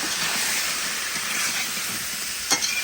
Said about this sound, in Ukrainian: додаємо печерицю і цибулю. Нарізану полутицями і обсмажуємо ще цибульку до золотого кольору.